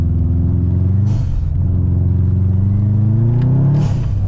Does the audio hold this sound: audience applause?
no